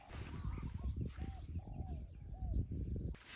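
A crow caws several times, a short harsh call repeated amid busy outdoor background noise, fairly near and moderately loud.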